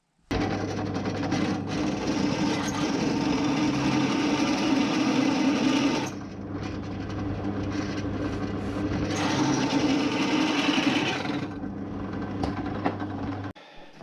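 Close, steady whine of a power drill boring new mounting holes during an Audi 80 EV conversion, in two long runs with a brief pause and a dip in sound around the middle.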